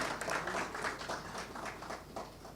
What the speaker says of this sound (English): Please let's give them a round of applause as they get seated.